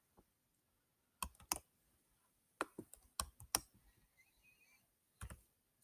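Keys on a computer keyboard pressed in short irregular bursts of quick clicks separated by pauses, close and fairly quiet in an otherwise silent room.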